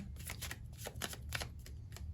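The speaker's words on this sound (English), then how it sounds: "I shuffled really quickly" Rapid riffling and shuffling of tarot cards, a continuous flurry of crisp flicks close by, no voices.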